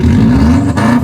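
A 2004 Subaru WRX at an exhaust competition meet holds a steady, loud rev, its deep exhaust drone sustained close by for about a second with a slight dip near the end.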